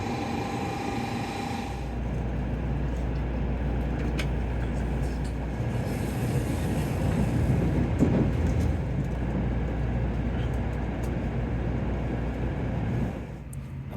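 A bullet train runs from Himeji to Kobe, heard from inside the carriage as a steady low rumble and hum, with a few faint clicks and a drop in level near the end.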